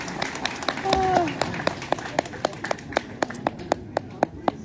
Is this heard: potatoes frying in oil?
no